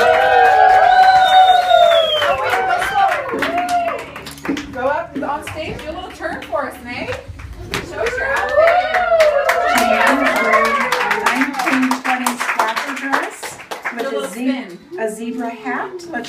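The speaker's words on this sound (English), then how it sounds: "ladies and gentlemen, we're clapping back there." An audience claps and cheers at a home fashion show, with bursts of clapping and whoops mixed under loud, close talk and children's voices throughout.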